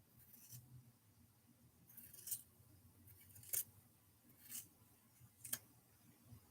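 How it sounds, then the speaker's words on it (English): Hand scissors snip through quilting fabric in four or five short, crisp cuts spaced about a second apart against a quiet room background. "Since I'm cutting with my hand scissors"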